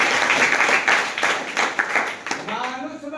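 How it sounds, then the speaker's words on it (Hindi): Students in a Hindi class clap together, a brief burst of applause from many hands lasting a few seconds, fairly close and lively. "ताली बजाइए।"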